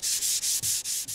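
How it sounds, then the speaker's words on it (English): Hand sanding a wooden cabinet door panel with a sandpaper block, six steady back-and-forth strokes in an even rhythm, close and alone with no voices. "I made a block that has sandpaper on the face and on the side. So it sands right into the corner."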